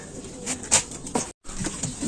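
A racing pigeon coos in a few soft, close bursts, with faint wing or body rustles and a brief dropout midway.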